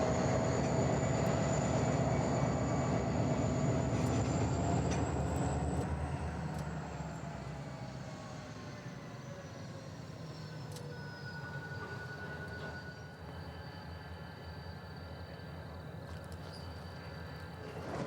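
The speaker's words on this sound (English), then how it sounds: "First, the train backs up the spur and stops." A Union Pacific local freight on the Moffat Line backs up a spur and stops: a steady, moderately loud diesel drone with a whining tone that slides downward as the engine eases off, settling into a quieter idle.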